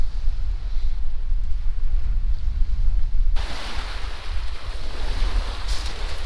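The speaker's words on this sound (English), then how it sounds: "Here's another good place to see the power of the waves" Lake waves washing onto a rocky beach at Rockport State Park, a steady rushing wash of surf mixed with wind noise, which grows louder and brighter about halfway through.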